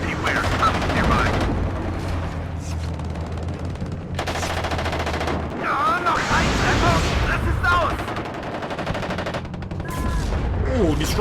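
Combat gunfire in the war video game WARNO: bursts of automatic fire and scattered shots over a rumbling battle bed, with talk running over it.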